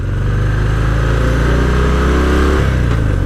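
A Harley-Davidson Fat Bob 114 motorcycle engine downshifts while riding, with a loud, deep rumble and a steady drone. The pitch shifts near the end as the gear changes. Strong wind noise runs through it.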